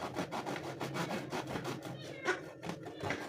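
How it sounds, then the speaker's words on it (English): A domestic cat meows in a home kitchen while bread is being sliced, several short meows close to the microphone over faint rubbing and sawing sounds. "My cat is going crazy."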